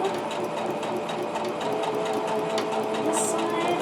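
A sewing machine stitches quilt block pieces along a quarter-inch seam, a steady, close whirring hum that runs continuously for a few seconds with no pauses.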